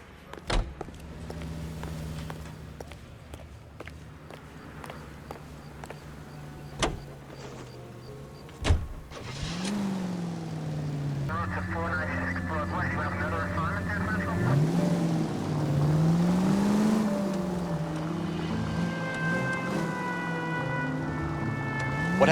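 A car driven along Temple Street in the game L.A. Noire, its engine humming low and steady with a few clicks and thumps, then revving up into a louder, rising and wavering drone that carries on to the end.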